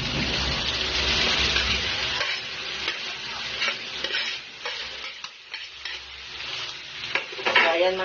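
Shrimp with chicken liver and gizzards stir-fried in a pan for pancit canton gives a steady close sizzle, broken by the scrape and clatter of stirring.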